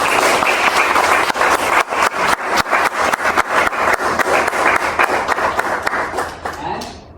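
A room full of people applauds at a Young Adult Toastmasters evaluation session, loud, close clapping that runs strong for about six seconds and then tapers off near the end.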